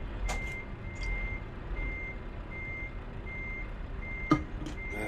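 Evenly spaced electronic reversing beeps from a truck in Euro Truck Simulator 2 repeat steadily over a low engine idle, with a few short hissing air bursts and a brief thump near the end.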